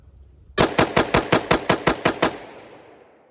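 Rapid gunfire from a handgun fitted with a Streamlight Protac 2.0 rail-mounted flashlight, about nine sharp evenly spaced shots in quick succession followed by a fading echo, loud and close with no talking.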